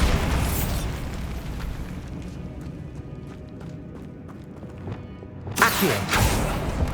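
Bombarda spell explosions in the Hogwarts Legacy video game, with loud booming blasts and crackling debris at the start and again near the end, rumbling continuously in between.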